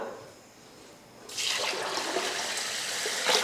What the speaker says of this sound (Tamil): இப்போ இதை கழுவிட்டு ஊற வச்சிடலாம்.